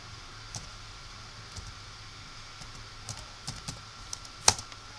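Scattered keystrokes on a computer keyboard, a few soft, irregular taps followed by one sharper, louder press near the end, close and faint over a quiet background hum.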